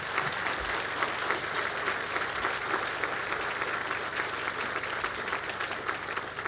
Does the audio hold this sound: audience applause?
yes